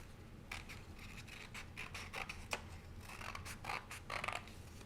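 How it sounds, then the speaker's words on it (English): Child's scissors snip through paper in a run of quick, soft crisp cuts with short pauses, close and quiet, with no voices. "cut a little past the corner before they turn the paper"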